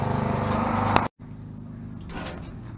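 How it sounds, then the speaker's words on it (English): A lawn mower running in a nearby yard drones steadily, then cuts out abruptly, leaving a quieter, distant engine hum afterward. "come on, Clancy, stop mowing the yard already."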